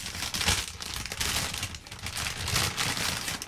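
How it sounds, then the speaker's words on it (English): A potato crisp packet crinkles and rustles continuously as crisps are pulled out of it, a close, steady crackling with no talking. "This is the sound of someone extracting crisps from a potato crisps packet."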